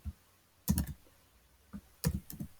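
Keys clatter on a computer keyboard in two quick bursts of clicking strokes separated by a pause, close and fairly soft, with no voices.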